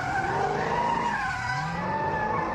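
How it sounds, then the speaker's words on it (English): Car tires squealing and skidding during street racing donuts and burnouts at night on a city avenue, a continuous loud wavering screech with engine rumble underneath, no voices. "The sounds of donuts and burnouts"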